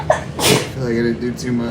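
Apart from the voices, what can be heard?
sneeze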